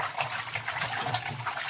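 Water gushing in a rushing, splashing stream at moderate level, with fluctuating bursts of bright spray over a low rumble, no speech present.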